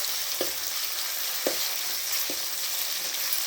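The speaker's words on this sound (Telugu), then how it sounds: "సో ఆనియన్ వేగాక కొంచెం అల్లం వెల్లుల్లి పేస్ట్ అండి వేసి ఇలా కలుపుకోవాలి." Ginger garlic paste sizzles quietly in a pan of frying onions, a steady soft hiss broken by three brief scraping strokes of stirring.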